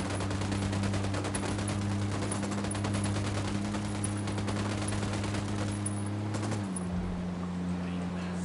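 Sustained automatic gunfire from a PS4 military shooter, a dense rapid rattle of shots running loud and continuous for most of the stretch, with a steady low engine-like drone underneath that shifts pitch near the end.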